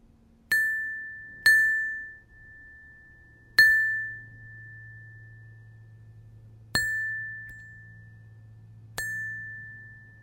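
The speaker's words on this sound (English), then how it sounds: "Gently tap the rim." Five clear glass or crystal rim taps, each a bright ringing ding that sustains and fades over a second or more, spaced irregularly and fairly close, over a faint low hum.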